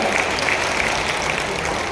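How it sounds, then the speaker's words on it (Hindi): Audience at a public event in Rishikesh giving a steady round of applause, dense and even clapping filling the moment without any break. "दीदी के लिए तालियां बजाएं"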